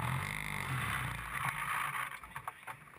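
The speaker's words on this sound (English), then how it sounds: "The engine's running." A Formula Ford race car at the Brands Hatch Indy circuit sits stationary after a spin, its engine running as a low steady drone that breaks into uneven sputters toward the end.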